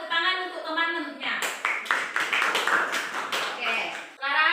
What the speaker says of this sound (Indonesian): Silakan tepuk tangan untuk teman-temannya